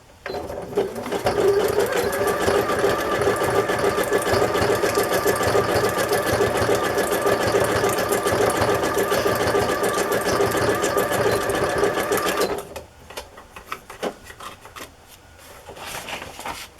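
A new sewing machine stitches fabric embellishments onto card journal pages, running as a steady, close, rapid rhythmic chatter for about twelve seconds before stopping, then faint handling noises follow.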